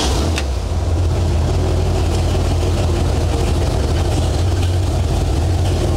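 A 1964 Ford F100 pickup engine running while the truck sits up on a lift after a transmission swap, a loud, steady low rumble with a rough idle throughout.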